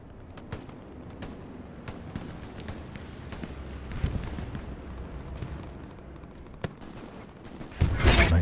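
Scattered gunfire cracks from near and far on the Carentan map in Hell Let Loose, a competitive World War II shooter match, ending in a louder, sustained rocket blast.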